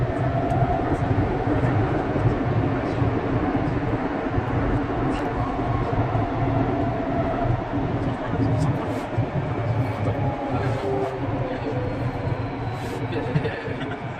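A metro train runs toward YVR-Airport on the Vancouver line from Waterfront. Its steady rumble and wheel-on-rail roar are close and continuous, and a voice speaks over it.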